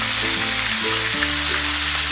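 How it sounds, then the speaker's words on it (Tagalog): Tamban herring or sardine frying in oil in a pan crowded with fish, a steady close sizzling hiss running throughout with tonal background music underneath. "Pag ako nag-prito, tama, gusto ko isang lutuan,"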